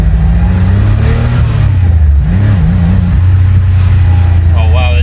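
A 1989 Porsche 911 Carrera Cabriolet accelerating in gear, its engine drone rising and shifting pitch loud and close from inside the car, with a person talking over it.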